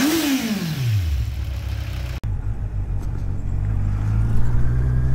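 Kawasaki Z1000 motorcycle being ridden, its engine winding down through a gear change and then pulling steadily with a low, rising drone, close and loud with wind noise.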